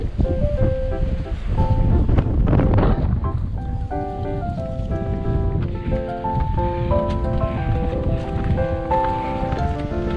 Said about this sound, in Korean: 제법 거친 바람이 불어오네요